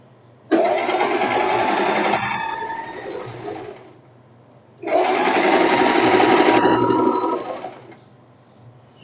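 An electric sewing machine stitches the armhole of a silk top in two sustained bursts of rapid whirring, each running a few seconds, separated by a short pause with a low hum.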